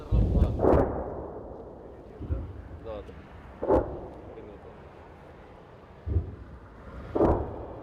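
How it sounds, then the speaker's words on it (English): Artillery shells landing near Russian positions close to the border, heard as several deep booms spaced a few seconds apart over a rumbling outdoor background, with some speech. "Up the road, towards Russia's last positions before the border, the shells land even closer."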